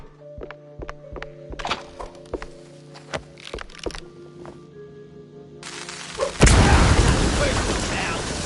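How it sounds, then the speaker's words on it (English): Firecrackers exploding in a wooden attic: a series of sharp thumps and pops, then a loud, sustained crackling burst that builds into a roar near the end. "Pretty sure the fire department frowns on stuffing firecrackers into wooden attics."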